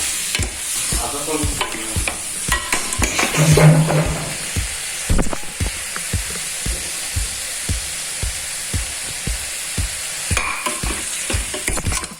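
Mutton sautéing in a pan for pepper thokku: a continuous close sizzle with regular scraping stir strokes from a spoon against the pan, keeping a steady rhythm throughout, no talk.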